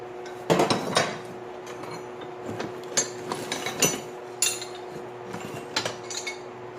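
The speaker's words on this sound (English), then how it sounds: "we've got a large handful of wrenches" A large handful of metal wrenches clink and clatter together in a series of bright, close metallic jangles and knocks, with irregular bursts throughout and no talking.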